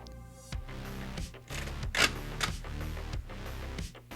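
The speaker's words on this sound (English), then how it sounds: "articulating this thing is very loud because every single joint is ratcheted except the hips." A Transformers Legacy Generations Selects Black Zarak figure with ratcheted joints gives a series of quiet, close clicks and snaps as its limbs are posed, the clicks coming in small irregular clusters.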